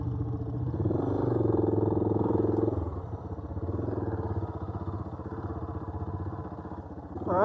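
A loaded adventure motorcycle, such as a DR650, Tiger 800, KLR650 or BMW GS, rumbles close by at a steady engine note that swells, then eases slightly before picking up again at the end.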